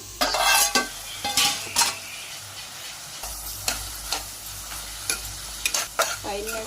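A creamy cluster bean and coconut curry sizzles in a pan while a utensil scrapes and stirs it in repeated loud strokes, with short pauses between the stirring bursts.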